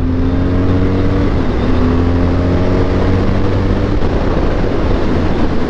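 A BMW R12 motorcycle engine revs and accelerates loud and close, its droning pitch climbing and shifting continuously for several seconds.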